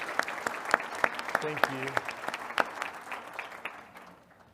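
Audience applause for a group of past presidents standing at a Missouri association's opening general session, steady hand-clapping from a crowd that tapers off toward the end, with a brief spoken thank-you over it.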